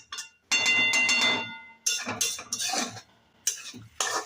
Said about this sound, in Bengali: এবার আমি গ্যাসটা অফ করে আর নাড়তে থাকবো